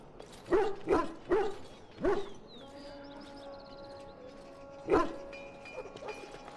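Hounds at an army camp in the video game Dragon Age Origins bark in a quick run of four barks, then fall quiet under a low tone before one more bark, close and clear.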